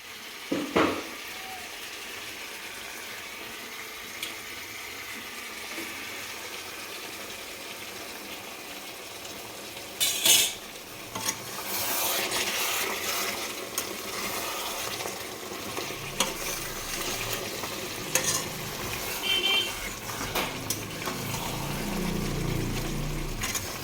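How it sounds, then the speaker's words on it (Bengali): Mutton being stir-fried in a pan, a quiet ongoing sizzle with scraping and clanking of the spoon against metal, growing busier and louder in the second half, no voices. "মাটনটা অনেকক্ষণ ধরে কষানো হয়ে গেছে প্রায় আধ ঘন্টা ধরে কষালাম"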